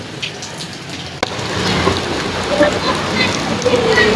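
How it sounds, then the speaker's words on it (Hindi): Heavy rain patters and hisses outdoors in a street in Multan, a dense wash of drops with a few tonal squeaks and faint noises mixed in. "बारिश हो रही है"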